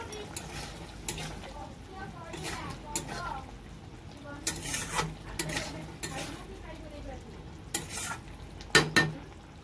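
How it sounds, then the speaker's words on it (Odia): Mushrooms are dropped into a frying pan and stirred, with soft, steady sizzling and scattered spoon scrapes and taps against the pan, fairly quiet and close by. "ଏବେ ଯେଉଁ ଟିକେ ଛତୁ ରଖିଥିଲି ତାକୁ ପକାଇଦେବା"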